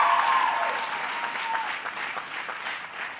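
Applause from a crowd at a Barnard College commencement ceremony, a dense wash of clapping that starts loud and slowly tapers over a few seconds.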